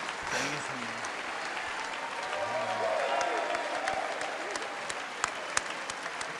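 A standing ovation in Congress, dense sustained clapping from a large crowd that swells slightly midway and keeps going without pause, with a voice speaking over it near the start.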